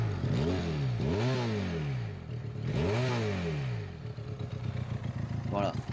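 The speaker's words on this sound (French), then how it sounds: "Le bruit du moteur est vraiment sympa aussi." A Benelli Leoncino motorcycle engine revs up and down in a few rising and falling sweeps, close and loud, with a throaty idle between bursts.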